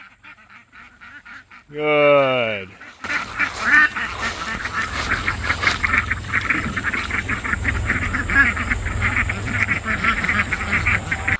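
A group of farm ducks quacking continuously as they are moved down toward a pond, a loud, busy chorus of overlapping calls following a brief strained creak, with a short spoken word.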